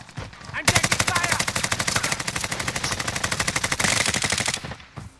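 Sustained automatic gunfire in a multiplayer shooter video game, a loud, rapid, even burst of shots lasting several seconds that stops abruptly.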